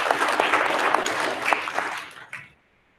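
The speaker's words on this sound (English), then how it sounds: "Can we all give those watching at home a few claps for their hard work they put into us" Audience clapping at a sixth-grade continuation ceremony, a full burst of many hands that thins out over the last moments and stops abruptly into near silence.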